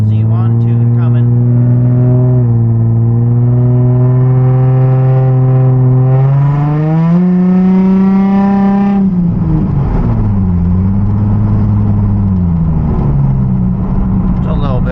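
Nissan 350Z with an ECU tune roars loud and close, its engine note climbing steadily as it pulls, peaking and then dropping back before revving again.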